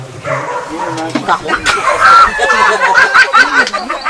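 Dogs bark now and then at an outdoor dog festival, short yips and woofs mixed into steady crowd chatter, laughter and nearby talking.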